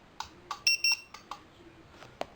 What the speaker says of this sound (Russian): Я нажимаю на кнопочку, она пищит.